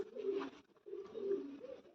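A pigeon coos close by in two low, throaty rolling phrases separated by a short pause, with no other sounds around it.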